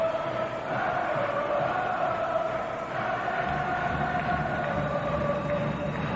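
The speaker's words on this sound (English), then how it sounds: "At last the Swiss supporters have something to cheer." Swiss supporters at an ice hockey final in Davos, Switzerland, raising a steady, loud crowd roar as Lugano pulls a goal back against CSKA, a dense arena din sustained throughout without a break.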